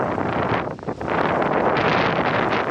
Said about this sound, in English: Windy, that's normal. It's normal wind.